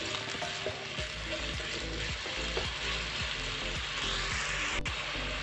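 Apples cooking in a pan with sugar, giving off a steady, dense sizzle and crackle over gentle background music, with no voice over it.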